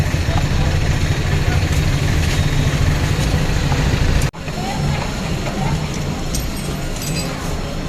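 A Robin grass cutter engine runs steadily at close range, a continuous loud drone with a brief dropout midway before resuming.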